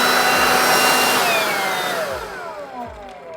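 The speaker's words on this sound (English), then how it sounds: "my new DeWALT 20 volts blower that uses a 5 amp battery" A brushless DeWALT 20-volt cordless leaf blower on a 5 Ah battery whines loudly at full speed up close, then its airy roar winds down and its pitch drops as the motor slows.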